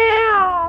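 A single loud, close cat meow from GTA 5 roleplay, a short drawn-out tonal cry sliding slightly downward in pitch, alone without talk.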